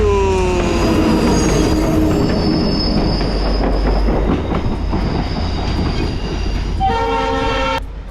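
A train on the railway line to Machu Picchu in Peru passes close by, a loud continuous rumble with squealing wheels, ending in a sustained horn blast near the end.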